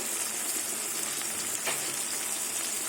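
Chopped tomato and onion fry in hot oil with turmeric added, giving a steady, close, even sizzle that hisses continuously with no talking.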